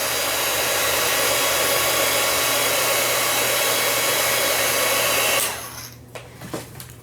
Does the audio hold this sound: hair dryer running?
yes